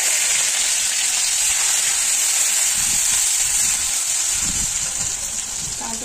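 Cumin, dried chilli, cardamom and bay leaf sizzle in hot oil, giving a steady, bright frying hiss that carries evenly throughout, with faint low knocks beneath it.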